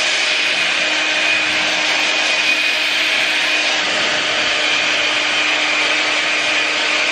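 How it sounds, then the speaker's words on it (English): Hair blow dryer running continuously while drying damp hair: a loud, steady, close whooshing roar with a faint whine, with no change for the whole stretch. "I'm just gonna take my blow dryer and I'm just gonna kind of blow dry through it just in the damp areas"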